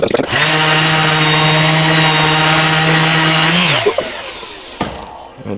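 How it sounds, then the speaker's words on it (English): An orbital sander with its disc removed grinds steadily against rough, pitted brass, a loud continuous whine with strong harmonics that holds for nearly four seconds and then cuts off, followed by a few faint knocks. "I take my orbital sander, took the disc off, put that down and start sanding"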